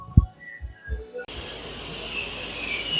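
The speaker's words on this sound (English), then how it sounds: "You do a quick release, let the steam come off of it" Steam rushes out of a pressure cooker during a quick release after cooking pasta for green chili mac and cheese. A few soft knocks come first, then a loud, steady hiss starts abruptly and continues evenly to the end.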